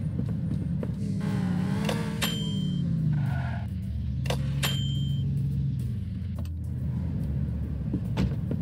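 A car is driven into a parking spot in the video game Game Store Simulator. A steady, low engine rumble rises and falls in pitch as it moves, with a few sharp clicks over it.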